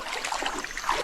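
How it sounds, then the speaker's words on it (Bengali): Steady broadband rush of water from a waterfall close by on a forest trail, filling the whole short moment with constant splashing hiss and no talk. "এই যে ঝর্ণার আওয়াজ, ঝর্ণার আওয়াজ আসতেছে না"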